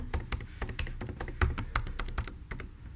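Rapid keystrokes on a computer keyboard while a password is typed in, a steady run of close, crisp taps and clacks with a few heavier thunks, no voices.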